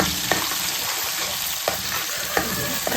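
Green chillies and masala frying in plenty of oil for a fish curry make a loud, continuous close sizzle, with a few regular scraping stirs cutting through.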